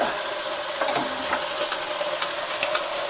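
Onions fry in a pan as spaghetti sauce gets started, a steady close sizzle with soft crackles and faint spatters throughout, no voices.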